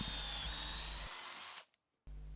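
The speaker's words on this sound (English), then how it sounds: "I can just put it into the normal hand drill" A hand-held power drill boring into wood whines steadily at close range, cuts out abruptly for a moment, then starts up again.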